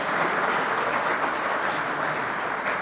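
A conference audience at a political policy forum applauds a lawmaker's introduction, dense continuous clapping from many hands held at an even level throughout.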